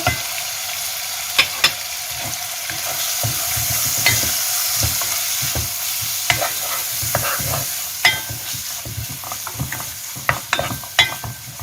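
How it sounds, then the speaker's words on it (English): Turmeric and black pepper frying in a pan for Gheimeh, stirred constantly, with a continuous sizzle and repeated spoon scrapes and taps, close and without speech. "I fry for 2 or 3 minutes."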